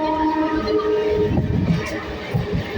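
A local commuter train runs near Chinchwad, giving a steady rumbling roar with low-frequency clatter throughout, and faint voices sound under the noise.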